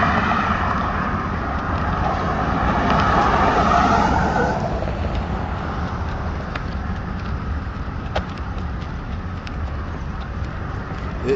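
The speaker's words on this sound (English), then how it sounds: "Can't stand out here because there's a lot of vehicles coming and going." Street traffic rumbles steadily as vehicles come and go nearby, with a louder pass early on easing into a continuous background wash of road noise.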